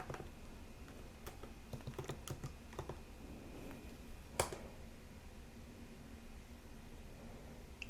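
Quiet keystrokes on a computer keyboard as a Linux delete command and filename are typed, scattered irregular taps with one sharper key press, close and faint against a soft hiss.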